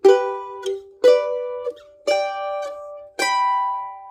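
A mandolin plucks bright chord arpeggios in four short, evenly spaced groups, each bright attack ringing briefly before the next, played alone and close.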